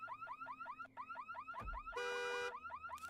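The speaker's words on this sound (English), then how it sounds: "Set the alarm off." A car alarm blares in the zombie survival game HumanitZ, a rapid repeating warble that shifts into a steady high whoop and back again, loud and continuous with no voices.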